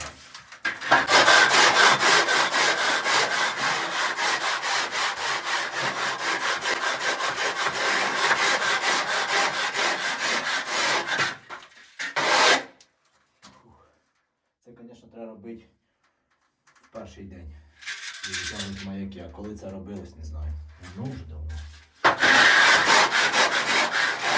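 Long stretch of loud, steady scraping and rasping as a straightedge scrapes plaster off a wall, then a pause with a brief voice and more scraping bursts at the end.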